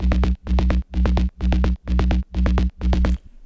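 The Serum bass preset Melter from Next Generation Volume 3 pulses in a future rave track, a thick, buzzing bass chopped into seven even, punchy stabs, loud and upfront with no voices.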